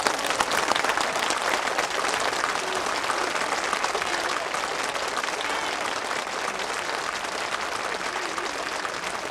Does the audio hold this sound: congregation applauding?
yes